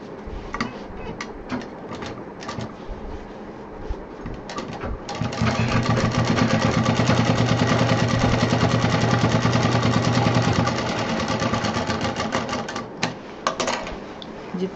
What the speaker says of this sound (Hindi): जितने भी जोड़ हैं उनमें मजबूती से डबल सिलाई भी करनी है